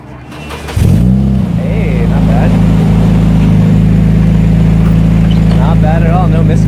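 A Nissan 240SX fitted with a new header and 3-inch catback exhaust cranks and fires up, then settles into a loud, steady high idle with a deep exhaust drone, close up, while people talk nearby.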